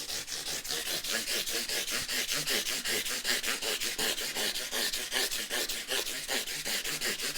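Continuous rhythmic sanding with a foam block on a Rally GL300 guitar, a coarse abrasive rubbing repeated in quick even strokes, loud and close with no voices.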